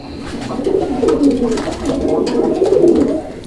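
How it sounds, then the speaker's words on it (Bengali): Pigeons, a fancy colouring Raj Golla breed, coo steadily and close by in low, throaty rolling phrases that repeat one after another without pause. "মানে কবুতর তো ডাকে না যেন ড্যান্স দেয় ড্যান্স একদম দেখেন"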